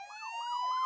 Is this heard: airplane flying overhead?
no